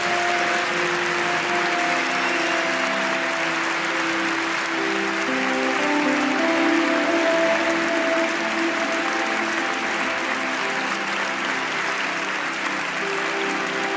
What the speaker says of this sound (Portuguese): Aplauda Jesus, celebre o nome dEle